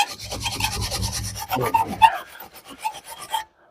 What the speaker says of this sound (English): I like to take this wire brush and you just give them a scrub, just like you're scrubbing your teeth